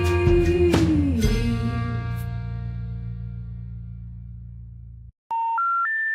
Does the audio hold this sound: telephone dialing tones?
yes